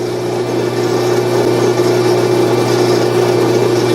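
A wood lathe turns a wooden chess pawn against carbide cutters, giving a steady, close, continuous whirring drone with a constant hum and no breaks for the whole stretch.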